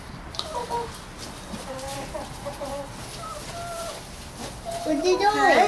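Chickens clucking softly in a farmyard, scattered short calls close by, with more excited clucking rising at the end and voices of people speaking nearby.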